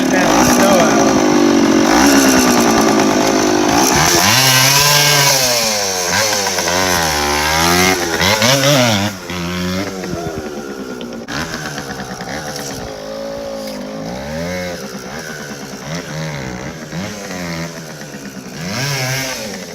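A dirt bike engine revving and running rough in snow, loud and close with rising and falling pitch, while people talk over it in the later part.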